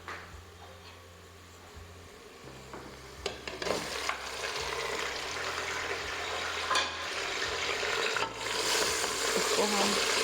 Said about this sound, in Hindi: इसको हम फ्राई कर लेंगे घी में अच्छे से।